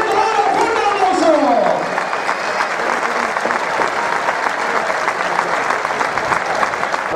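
Crowd applause at a young bullfighters' exhibition in Cáceres, a dense sustained clapping filling the arena, with someone shouting over it at the start.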